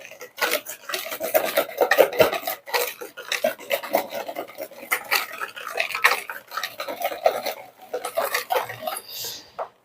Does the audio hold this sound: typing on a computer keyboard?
no